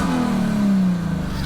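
A modified 2006 Infiniti G35 sedan with a six-speed manual engine revving toward 7,000 rpm, a close, loud, steady rising-then-falling mid-pitched engine tone lasting about a second and a half.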